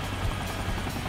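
A helicopter in the video game Sonic Generations on Xbox 360 gives a brief, loud, steady rotor whir and rumble, heard alone.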